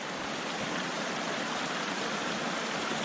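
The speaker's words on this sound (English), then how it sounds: "Look at that beautiful creek." Steady rushing of a creek flowing beside a wilderness trail, a continuous even wash of water noise with no talk, moderately close.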